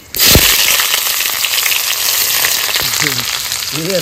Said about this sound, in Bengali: দুটো শুকনো লঙ্কা, গোটা গরম মশলা, দারচিনি, এলাচ, লবঙ্গ ফাটিয়ে দিয়েছি